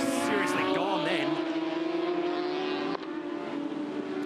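Sports racer cars, including a Formula 1000 car, racing at Winton circuit in Australia, with a loud continuous engine drone up close that bends in pitch as the revs shift and cuts slightly at one point.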